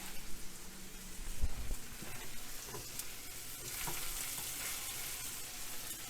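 Onions frying in a pan alongside a pork roast, giving a steady crackling sizzle with a few stirring scrapes and a louder thump partway through, all close up with no one speaking.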